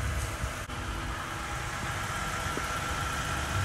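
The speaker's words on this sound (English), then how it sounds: "Now that noise you hear is another vehicle running." Another vehicle's engine idles nearby in cold weather while the truck itself is switched off, giving a steady, continuous low mechanical hum and rumble with no talking.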